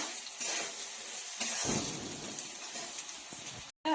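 Papaya pieces frying in hot oil in a pan, giving a steady close sizzle with hissing and crackle throughout, a brief stir-like rustle partway, and no talking.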